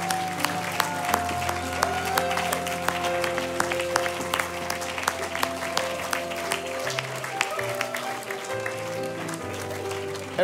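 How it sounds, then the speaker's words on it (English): Audience in a church hall applauding the cast of an Easter production, steady clapping that carries on for about ten seconds beneath sustained music and a few shouts. "Let's applaud them."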